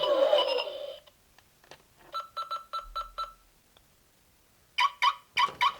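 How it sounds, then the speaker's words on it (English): An electronic toy car alarm on a Masters of the Universe Castle Grayskull playset chirps in a repeating pattern: a burst of five quick beeps, a pause, then four more loud tones, after an opening rising whine. "that's the car alarm turning on"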